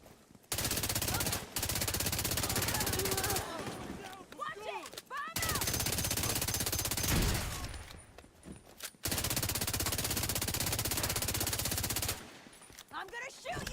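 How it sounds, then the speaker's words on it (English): Rapid automatic gunfire in the video game Dune Awakening comes in three long, loud sustained bursts separated by short pauses, with voices talking in the gaps between bursts. "I'm gonna shoot you now!"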